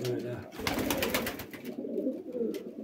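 Van pigeons coo softly nearby in low, throaty bursts in a breeding coop, with rustling and faint background voices around them.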